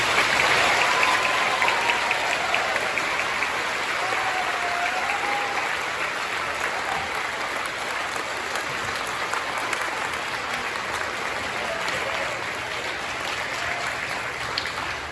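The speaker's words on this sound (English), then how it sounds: "We give a round of applause to our high school military students." A school assembly crowd at a Veterans Day event applauds high school military students, with steady, dense clapping that carries on loudly throughout.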